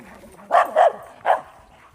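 A dog on a hiking trail in Austin lets out three sharp, close barks in quick succession, with a short pause before the last one, over a quiet outdoor background.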